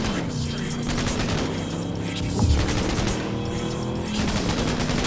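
Gunfire crackles in dense, rapid bursts during a Cyberpunk 2077 car chase, riding over steady engine and road noise, with one heavier thump near the middle.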